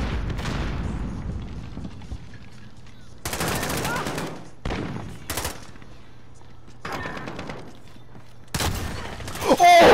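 Video game gunfire from a no-scope sniper shot cracks out in several sharp, loud bursts spaced across a match, over a faint steady hum, with no voices.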